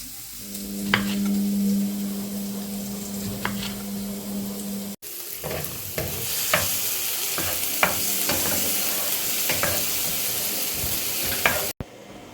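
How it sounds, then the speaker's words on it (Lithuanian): Garlic and paprika sizzle steadily in a pan, with a continuous hiss of frying and repeated scraping clicks as a utensil stirs the food. "Kepinu česnaką su paprika."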